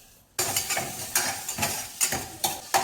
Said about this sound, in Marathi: इथे मी हे 2 लसूण आहेत ना मस्त किसून घेतलेले आहेत ते घालते.